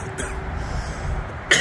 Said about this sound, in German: Und ja, kommt noch immer husten.